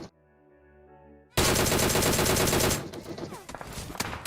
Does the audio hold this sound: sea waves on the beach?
no